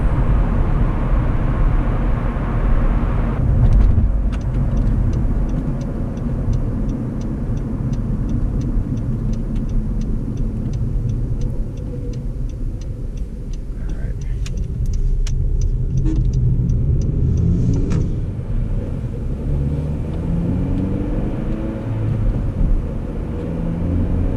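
A Honda Civic Si driving on a short run, its steady engine rumble and road noise filling the cabin continuously, fairly loud and close, with no talking.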